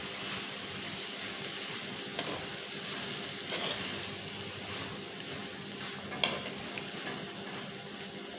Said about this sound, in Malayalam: ഇതും കൂടെ നന്നായിട്ടൊന്ന് വഴറ്റാം.